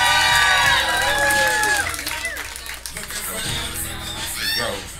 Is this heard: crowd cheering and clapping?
yes